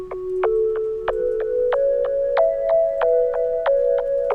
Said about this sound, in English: this instrument right here, which is just a sine wave with a little shaper attached to it.